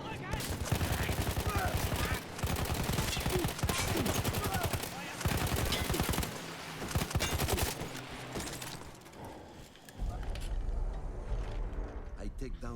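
Rapid automatic gunfire from shooting enemies in a video game, dense continuous bursts filling most of the stretch with brief gaps, loud and close.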